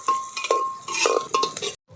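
Chopped onion with cardamom sautéing in a pot over a clay village stove, a spoon clinking and scraping against the metal in irregular close strokes with a faint tonal ring, no voices.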